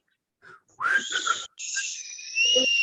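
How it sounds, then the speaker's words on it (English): A person whistles a few wavering, breathy tones, starting with short uneven attempts and then holding a longer sustained note, close and fairly clear with no talking. "Намагаємося посвистіти ще раз."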